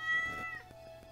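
A kitten meows in the farming game Stardew Valley, one clear high cry that trails off, followed by soft game background sounds.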